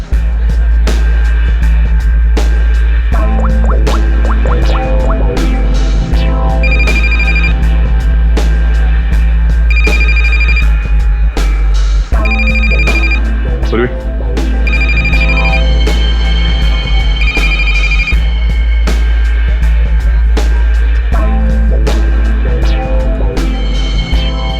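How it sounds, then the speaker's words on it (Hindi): A telephone rings repeatedly in regular electronic bursts over a constant loud hum, with no other voices present. "इस रचना को फोन लगा।"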